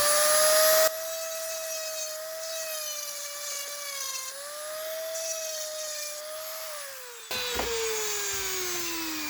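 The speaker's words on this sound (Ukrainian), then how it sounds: "Взяв гравер і пробуємо гравьором." A rotary engraver grinds a rear door lock part from a Ford Mondeo central locking system, giving a sustained high whine that shifts in pitch under load. The sound is loud and close, with brief interruptions and no speech.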